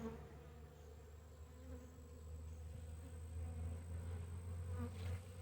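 Honey bees buzz in an opened nuc hive during a January check, a faint, steady, droning hum from many bees that swells slightly toward the end, with no talking.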